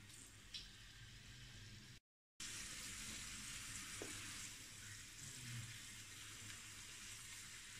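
Wonton wrappers hit hot oil and fry with a steady, close sizzle and faint bubbling. The sound runs continuously apart from one brief gap.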